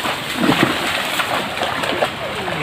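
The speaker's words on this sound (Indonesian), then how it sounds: "Asiknya mandi di laut" People bathing in the sea splash about in the water, with scattered sloshing bursts and broadband wash running continuously under faint background voices.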